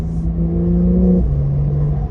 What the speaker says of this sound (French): ça met un coup d'accélérateur comme à l'ancienne